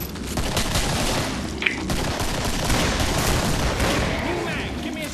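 Rapid, loud gunfire from dual .44 revolvers in the Killing Floor video game, shots crackling in dense bursts across the whole stretch with a sharp crack near the middle and faint game noise beneath.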